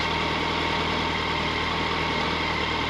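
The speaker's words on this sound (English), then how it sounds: "It sounds very quiet motor-wise. It has a stock exhaust" A Kawasaki Concours 1400 motorcycle with stock exhaust idling, a steady, even low engine drone heard up close with no change in pace and no talk.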